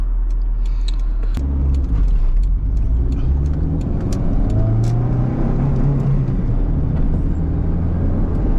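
A 1991 Honda CRX HF accelerates gently from inside the car, its engine a steady low drone with shifting pitch, accompanied by light rattles and clicks from the cabin, with no talking.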